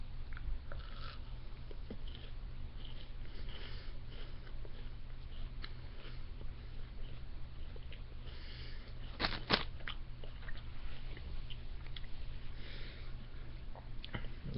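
Quiet close-up biting and chewing of a chocolate Rice Krispies treat with fudge pieces, soft crunching and mouth sounds throughout with a sharper crunch near the end.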